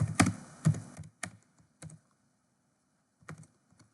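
Computer keyboard typing Python code, a few close, crisp keystrokes in short bursts with pauses between them, quiet room.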